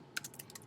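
A computer keyboard is tapped in a quick, quiet run of about five keystrokes, close and alone.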